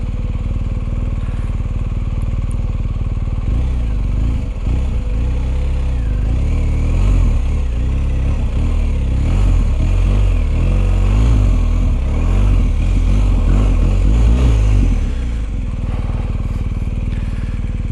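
A heavy BMW R1250GS motorcycle engine runs loud and close, a steady drone that surges into revving pulses through the middle as the bike is ridden through slow turns, then settles back to a smoother hum.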